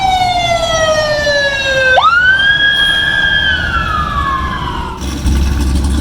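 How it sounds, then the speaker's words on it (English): Emergency vehicle sirens wail loudly near a busy stretch of road during a muscle car cruise in Ocean City, Maryland, the siren tone sliding up and down through several sweeps with traffic noise underneath. "I hear sirens, so something bad probably has happened."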